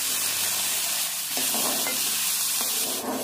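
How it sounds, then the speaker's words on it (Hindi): About two cups of boiled peas sizzle in melted ghee with a spoonful of cumin, with a steady loud frying hiss and a few soft stirring knocks from a spoon in the pan. "मटर को तकरीबन 1 मिनट के लिए हम फ्राई करेंगे।"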